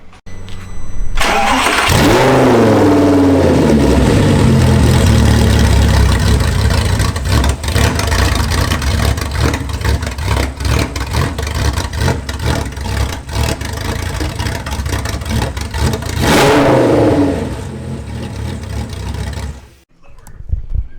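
A straight-piped Audi R8 V10 Plus starts with a sharp bark and settles into a loud, raspy idle. It flares with brief revs, then a second rev blip and cutoff near the end, up close with no talk.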